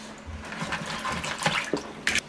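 Clean water splashes and pours over live crabs being rinsed before cooking, a short close-up burst of running, sloshing water with no talking.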